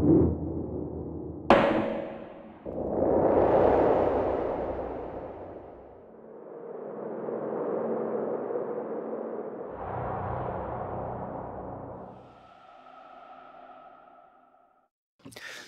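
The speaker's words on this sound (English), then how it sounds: "Next are the noise tails and reverbs." A series of deep cinematic whooshes and rumbling hits, each decaying into long reverberant noise tails, separated by brief gaps.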